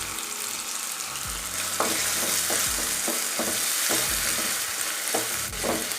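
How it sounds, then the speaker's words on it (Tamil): Tomatoes sauté in a hot pan for vada curry, giving a continuous sizzle while a utensil scrapes and stirs in repeated low strokes, close and fairly loud, with no voices. "இப்போது தக்காளி நல்லா வதங்கட்டும்."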